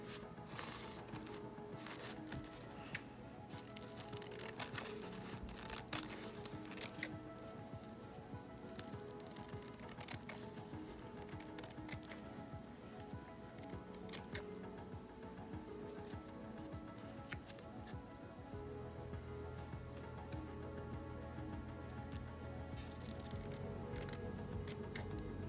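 Scissors cut out striped material for a mug design, a faint, irregular series of soft snips and rustles close by, spread over about twenty-five quiet seconds with a low background hum.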